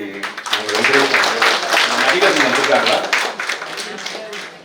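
Audience at a Drug-Free Tamil Nadu awareness campaign event clapping in a dense burst of applause that swells and fades over a few seconds while a person speaks over it.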